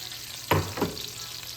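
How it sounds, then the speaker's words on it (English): Celery and onion cooking down in bubbling butter for a chicken pot pie, a steady soft sizzle broken by two brief louder stirring scrapes. "we added in a half a cup of celery and a half a cup of onion to our butter. We're just gonna let it cook down"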